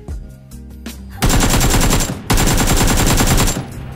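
Automatic gunfire in PUBG on Xbox, starting with a few scattered shots, then two long, loud, dense bursts of rapid fire separated by a brief pause.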